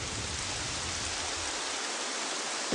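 Steady, dense rainfall pours down as a loud, continuous hiss that fills the whole stretch, with no voices.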